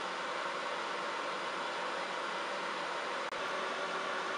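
A Cookeo multicooker cooking beef meatballs gives off a steady, even broadband whir and hiss that holds constant throughout, broken only by a brief click near the end, with no talking.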